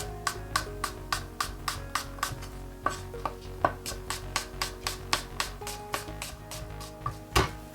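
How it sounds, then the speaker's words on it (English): A knife rough-chops fresh garlic on a cutting board, a steady run of about twenty crisp, close chops at an even rhythm, with no one talking. "Fresh garlic, rough chop."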